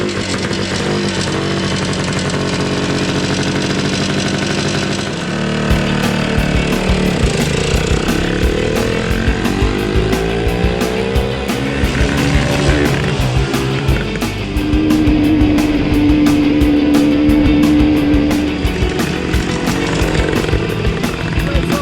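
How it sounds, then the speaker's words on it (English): A 1971 Yamaha DT-1 two-stroke motorcycle starting up, going from cranking noise into a loud, buzzy, crackling engine that revs up and down close by, with a brief tonal whine partway through. "Right then, let's start the bike up."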